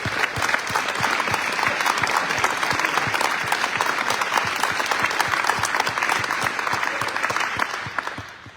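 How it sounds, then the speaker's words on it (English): A grand-opening audience at a wellness center bursts into loud, sustained applause, dense clapping rolling steadily for several seconds before trailing off at the end. "Let's give these guys a huge round of applause."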